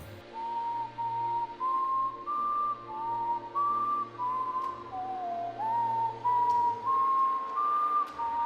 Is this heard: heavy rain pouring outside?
no